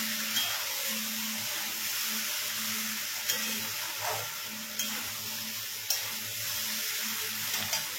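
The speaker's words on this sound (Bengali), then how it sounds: "চালের সাথে একটু ভালো করে, মানে গ্যাসটা পুরো ফুলে দিয়ে না, একটু ভালো করে নেড়ে চেড়ে নিতে হবে।" Rice being stirred in a pot on a gas stove over a steady background hiss and sizzle, with a few sharp scrapes and knocks of the spoon against the pot.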